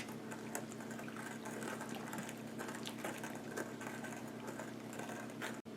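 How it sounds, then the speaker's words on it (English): Milk being mixed into coffee cake batter for a pumpkin cream cheese cake: a steady whirring electric mixer hum with wet churning, continuous and even, no talk. "Now let's add the rest of the milk to the batter and mix that together."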